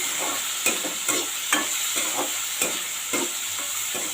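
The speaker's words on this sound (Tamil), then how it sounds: "இப்போ இந்த தக்காளி வந்து லைட்டாக வதங்கட்டும் லைட்டாக வதங்கி இந்த பச்சை வாசனை போயிடணும் அது வரைக்கும் வதக்கிடுவோம்" Tomatoes sauté in a pan for tamarind curry, a constant sizzle of frying punctuated by regular spoon scrapes and taps roughly every half second, loud and close with no talking.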